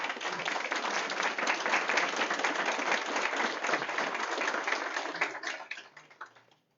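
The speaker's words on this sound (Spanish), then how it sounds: "Vamos a alabar con nuestras palmas" A church congregation claps hands in praise during a Spanish-language service, steady dense clapping from many people throughout before it tapers off and stops.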